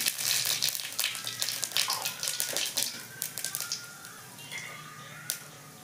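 Dried red chillies, cumin and radhuni dropped into a little hot oil crackle and sizzle close by, a busy spattering that gradually settles into a quieter sizzle with occasional pops.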